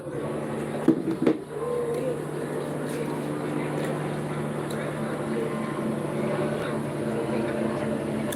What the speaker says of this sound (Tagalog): Yung helicopter ang iingay.